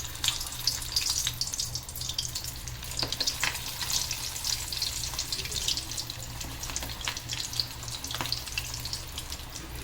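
Methi muthiya fritters fry in hot oil with a steady, dense sizzle that runs the whole time, broken by a few sharper crackles and faint clinks of a utensil, at moderate loudness.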